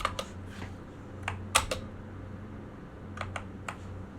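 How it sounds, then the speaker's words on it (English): Computer keyboard typing in short bursts, sharp close clicks of keys in irregular clusters with pauses between, no talking. "I think I broke my keyboard, bro."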